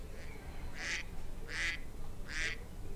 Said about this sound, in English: ducks quacking.